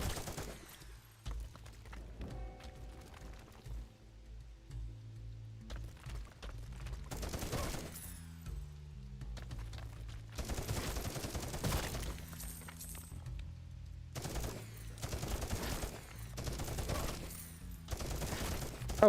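Bursts of minigun fire from the zombie shooter Zombieville USA 3D come in several sustained, dense rattling volleys separated by short pauses, fairly close and loud over faint background game sound.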